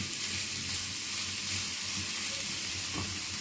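Carrots and beans sauté in a hot pan, giving a dense, continuous sizzle close up with faint stirring scrapes, and no voices over it.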